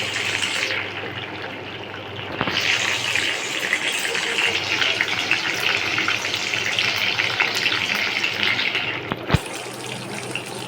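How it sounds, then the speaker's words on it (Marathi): Bitter gourd pieces frying in a small batch, a dense bubbling sizzle that stays loud and steady, with a couple of sharp knocks from a utensil against the pan. "थोडं थोडं टाकून फ्राय करून घेऊ"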